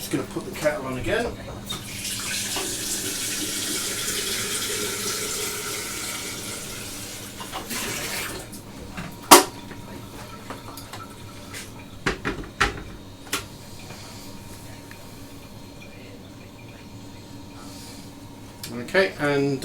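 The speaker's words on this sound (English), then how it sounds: "So I'm just going to put the kettle on again." Kettle being filled from a kitchen tap during home brewing of a stout: a steady rushing stream of water for several seconds, then cupboard and handling clatter with a few sharp knocks, with a voice speaking nearby.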